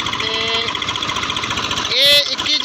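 A Swaraj 735 tractor engine runs steadily with a rough, pulsing diesel chug, close and loud throughout, with a brief louder burst near the end.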